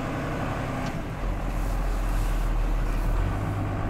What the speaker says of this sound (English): You hear that engine a little